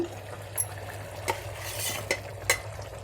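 A spoon stirs small pieces of paneer into palak paneer with butter in a pan, giving a few distinct scraping clinks over a soft, steady background hiss, close and alone.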